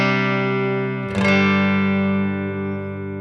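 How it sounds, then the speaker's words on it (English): Clean electric guitar, a Nash T-57 Telecaster played through a Morgan RCA35 amp, sustains a full chord. A fresh strum about a second in gives a second ringing chord that fades slowly. "I'm playing a Nash T-57 telecaster into a Morgan RCA35 amp, and clean sound sounds like this."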